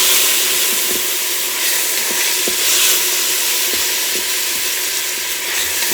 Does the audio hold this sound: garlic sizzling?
yes